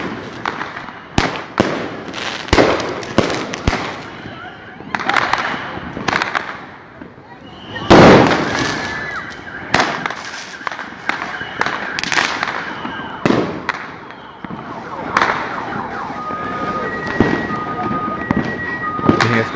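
Fireworks and firecrackers bursting at a Christmas celebration in Ayacucho, a series of sharp loud pops and cracks at irregular intervals, some near and some farther off, with voices in the background.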